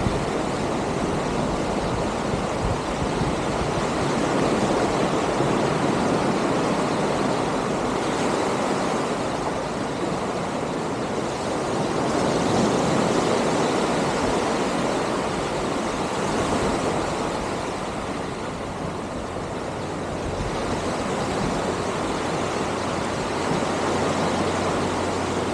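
Ocean waves washing onto a shore where seawater is gathered to cook Maine lobster, a loud, continuous roar of surf with gentle swells and wind, no voices.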